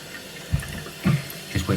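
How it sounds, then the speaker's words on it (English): A toilet cistern refilling after its inlet float valve diaphragm was replaced, a soft trickling water flow with a few gurgling pulses, quiet and close. "So the water's filling up as normal."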